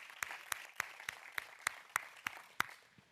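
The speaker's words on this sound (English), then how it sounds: "So give yourselves a round of applause for making the trip out to Austin." A few scattered hand claps from a small audience at a company investor day in Austin, about nine sharp separate claps spaced evenly over three seconds, fairly faint and slightly distant with no talking.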